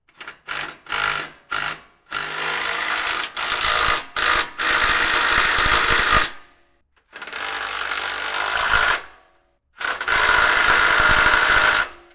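Impact or power driver tightening rock slider bolts on a third-generation Toyota Tacoma, loud close bursts of whirring and rattling, several short pulses followed by longer runs separated by brief pauses.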